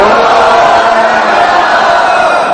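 An audience shouts "Garanga" in unison on a second attempt, making a broad, steady wall of crowd yelling that holds at full volume throughout.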